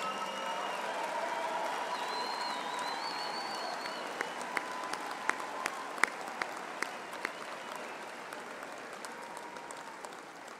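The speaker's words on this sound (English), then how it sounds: "let us give our graduates a big round of applause for their hard work." A crowd at a university graduation ceremony applauds steadily, with a few sharper individual claps standing out before the clapping slowly thins and fades.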